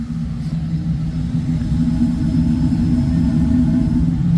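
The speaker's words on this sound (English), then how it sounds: "All right, and you can hear the exhaust." Steady low roar of a Trane commercial gas furnace exhaust running at high fire, a constant rumbling hum with no pauses.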